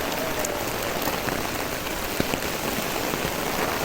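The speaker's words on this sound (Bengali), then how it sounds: "আমার ছাতা দিয়ে পানি পড়তেছে" Dense rain patters steadily on an umbrella close overhead on a street, a constant hiss with occasional heavier drops, no voices.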